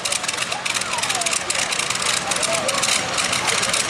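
The Warhog pulling tractor from Manitoba firing up at a truck and tractor pull, a dense, loud engine roar with rapid rhythmic pulsing, heard under crowd noise and talk.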